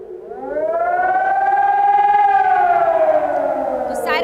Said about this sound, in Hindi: तो सायरन जैसे बढ़ रहा है